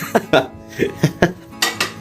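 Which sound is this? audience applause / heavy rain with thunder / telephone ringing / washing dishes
washing dishes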